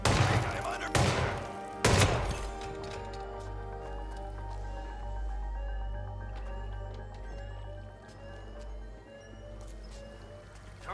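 Gunfire in the video game Hitman 3, with a few sharp shots near the start followed by quieter scattered shots and a low steady game drone.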